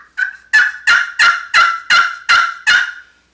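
A turkey pot call played while held by the fingers gives eight sharp yelping notes in an even rhythm. Each note is loud and close, with no talk over it.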